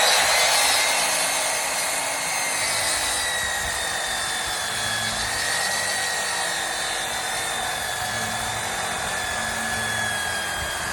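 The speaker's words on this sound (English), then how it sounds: "now we're going to use our compounding miter saw to go ahead and make the cut" Compound miter saw cutting a wooden board to a four-foot mark, a loud, continuous high whine and grinding that holds steady for the full length with a slight pitch drop midway.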